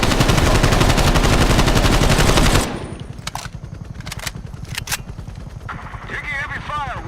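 A dense burst of rapid automatic gunfire rattles loudly in Call of Duty Black Ops Cold War, then gives way to scattered sharper single shots and battle noise with radio-style voices in the mix.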